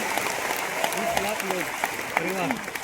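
Scattered audience claps ring out at an RCM business motivational gathering, uneven and moderately loud, with a voice talking over them.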